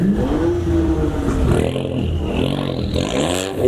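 A Honda car engine revs at a nighttime car meet in Burton, UK, its pitch climbing and easing in loud, close sweeps with a slight rattle underneath.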